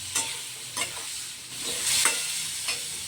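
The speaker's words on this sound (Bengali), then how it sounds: "এবার গুঁড়ো মশলাগুলোও দিয়ে দিলাম, দিয়ে ভালো করে নেড়ে চেড়ে কষিয়ে নিতে হবে।" Ground spices sizzle and fry in a pan while being stirred, with a steady hiss broken by several scraping strokes at irregular intervals, fairly close and moderately loud with no voices.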